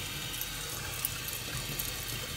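Tap water runs steadily into a kitchen sink while dishes are rinsed, a continuous broadband splashing hiss with no talk, fairly close and even in level.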